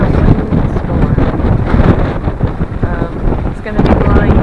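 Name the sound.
strong wind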